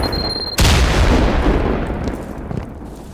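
A C4 charge detonates in the shooter Firewall Zero Hour as one sudden loud blast that rolls into a long, noisy rumble and fades over a few seconds.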